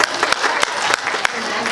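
An audience at an equality, diversity and inclusion awards ceremony applauds loudly and steadily, with a dense wash of clapping and a few louder claps standing out.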